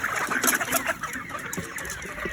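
A flock of chickens being fed pellets at a feeder, a busy close chorus of overlapping clucks and squawks with scattered louder calls, steady and animated throughout.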